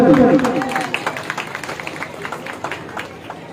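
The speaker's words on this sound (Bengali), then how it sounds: "সুরাদার জন্য একটা করতালি।" Audience at a school event applauds a welcomed guest, scattered irregular clapping from a crowd, rising and falling in uneven bursts throughout, with a voice speaking over the start.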